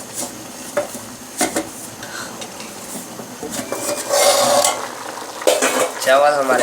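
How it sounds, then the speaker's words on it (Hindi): Matar pulao, rice with peas and lemon, is stirred in a pan on the stove, with repeated scraping and clinking of the utensil against the metal over a low cooking hiss. "चावल हमारे पक रहे हैं।"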